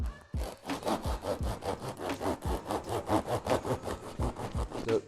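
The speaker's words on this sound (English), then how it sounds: "we want about 1-inch slices for these" A knife saws back and forth through a loaf of bread, cutting thick one-inch slices for avocado toast, with about twenty steady, close strokes in a regular rhythm and no talking.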